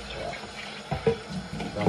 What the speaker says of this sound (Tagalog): hugasan lang natin